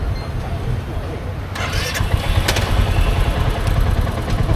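A motorcycle at a motorcycle show in Taiwan cranks and starts, then runs at a rough, clattering idle close by, while someone talks over it.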